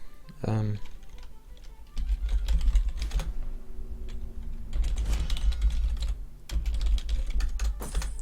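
Loud clattering on a computer keyboard, bursts of rapid key presses close to the microphone with short pauses between, and someone talking briefly near the start.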